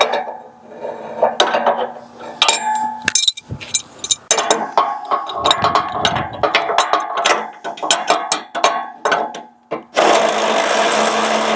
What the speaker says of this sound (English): let's take a bigger wrench and press up on it